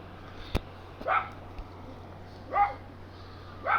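A dog barks in short separate bursts, four sharp moderately distant barks spread over a few seconds against a quiet background hum, with no one talking.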